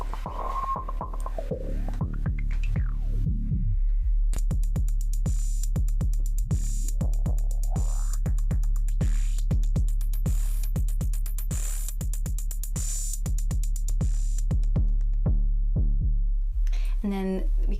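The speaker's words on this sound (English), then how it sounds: "very simple drum beat that I've programmed in just for the purpose of showing you what it sounds like through the filter" A simple programmed Elektron Analog Rhythm drum pattern runs through a Moog Matriarch filter over a sustained low drone, with filter sweeps shifting its tone and a busy stretch of rapid hits mid-way.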